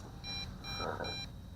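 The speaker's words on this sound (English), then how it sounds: "I'm not sure what the 3 beeps are." An MJX Bugs B2W GPS FPV drone controller sounds three short electronic beeps in an even rhythm, faint and high-pitched, over a quiet background hiss, as Wi-Fi reception is lost.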